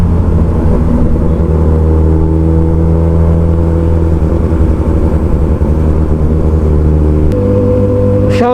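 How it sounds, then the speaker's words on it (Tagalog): A Kawasaki Z1000 motorcycle fitted with a Drip Exhaust full exhaust system runs with a loud, steady engine drone that rises in pitch near the end, alone with no voices. "Shoutout nga pala sa Drip Exhaust para sa paggawa ng ating muffler full exhaust dito sa ating Kawasaki Z1000"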